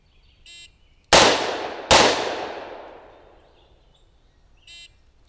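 Two sharp, loud revolver shots crack about a second apart on an outdoor shooting range, each trailing off in a long echoing decay, framed by short electronic shot-timer beeps before and after.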